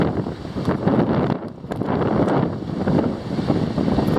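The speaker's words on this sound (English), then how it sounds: "Yeah, and it's very windy" Strong wind roars over the microphone at the Veracruz seafront (Malecón) during a storm on the Gulf of Mexico, a loud continuous buffeting rumble with faint surf beneath and no talk.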